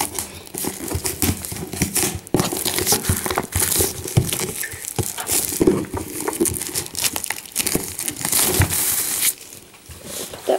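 Plastic wrapping is torn and peeled off a Pokémon Generations Elite Trainer Box. Close, loud crinkling and crackling comes in irregular bursts for several seconds with almost no talk.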